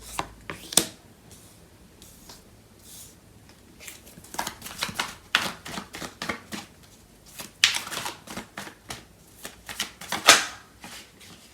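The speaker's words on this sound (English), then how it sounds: "I'm going to clarify these cards." Tarot cards are shuffled by hand in close, crisp bursts of riffling and slapping, with short gaps between the irregular flurries.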